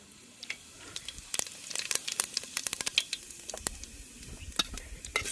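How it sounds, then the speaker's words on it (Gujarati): Spices crackle and sizzle in hot oil as tempering for pulao is cooked outdoors at a forest picnic in Taranga, with sharp irregular pops and stirring scrapes, close and fairly loud, no talking. "પુલાવ બનાવવાનો વઘાર આવી જશે."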